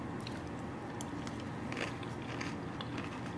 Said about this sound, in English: it is that nice crunch to your yogurt